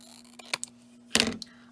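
Scissors cutting the corners of a paper bookmark square, a few quick crisp snips and a brief louder cut over a faint steady hum, close and quiet.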